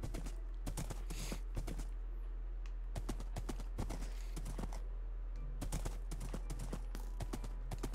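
Skeleton horse hooves in Minecraft, a run of quick dry clip-clop taps in uneven bursts, fairly close over a low steady hum with no talking.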